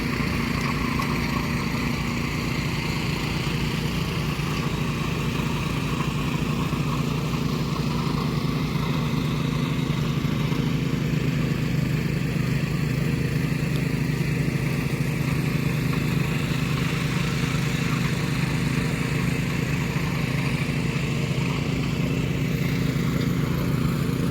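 A tractor ploughs a field during sowing season in Konkan, its engine droning steadily and loudly throughout with a constant low rumble and no speech.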